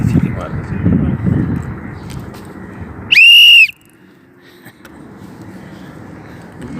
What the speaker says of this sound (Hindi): सीटी मार